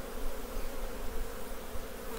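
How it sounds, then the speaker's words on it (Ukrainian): Honeybees swarm around a beekeeper's hands at an open hive, a dense, steady droning buzz close to the ear with no talking. "Бачите, бджола по рукам просто б'є."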